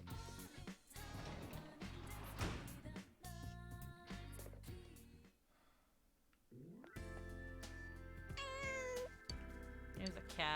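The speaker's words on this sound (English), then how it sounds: "There's a cat." A cat meows in the video game Persona 4 Golden, with several clear meows over game music and effects that drop to near silence midway and then resume.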